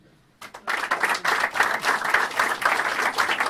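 Applause from a crowd breaks out after a brief quiet moment and continues steadily, dense clapping filling the room without letting up.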